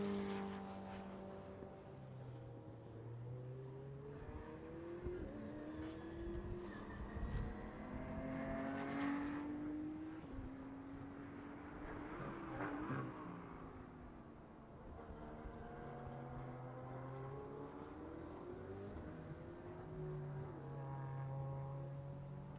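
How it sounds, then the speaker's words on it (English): A Ferrari 488 Challenge race car at MotorLand Aragon speeds down the back straight during a GT sprint race, its engine note rising and falling through gear changes, faint and distant with other cars passing. "You can see now the Ferrari 488 Challenge really stretching its legs down the back straight."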